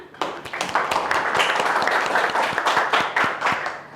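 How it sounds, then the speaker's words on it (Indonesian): A class of students claps for a classmate, a small group's brisk, uneven clapping with distinct individual hand strikes, close and moderately loud. "Beri tepuk tangan dong pada temennya."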